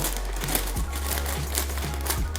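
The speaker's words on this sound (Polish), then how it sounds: "No to nożyczki w ruch." Scissors snip open a crinkly Cheetos chip bag, giving soft plastic crackles and a few short cutting clicks over a steady low hum.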